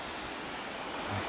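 Stream water rushes steadily through a landscape, a dense broadband wash with no breaks, moderately loud and heard alone with no voices.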